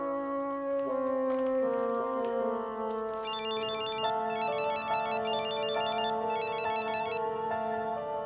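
A telephone ringtone plays clearly and loudly, a melodic electronic tune that shifts into a repeating warbling ring pattern, alone with no talk.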